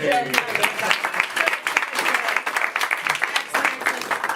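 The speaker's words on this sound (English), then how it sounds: "All right, clap for the car." Studio audience applause at a live event show, a dense stretch of many hands clapping that blends with overlapping voices and cheering.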